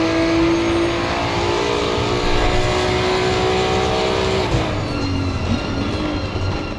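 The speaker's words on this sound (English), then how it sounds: "just enjoy its engine note for a second" A GT2 race car engine in Assetto Corsa Competizione sings at high revs, a loud, close, sustained engine note that drops in pitch through a gear change midway and then climbs again, with no voices over it.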